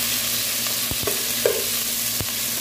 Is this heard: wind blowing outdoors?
no